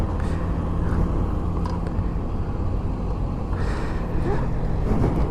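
A 2016 Kawasaki Vulcan S motorcycle idles with a steady, loud, low rumble close by, its engine note holding fairly even with only slight rises and no talking.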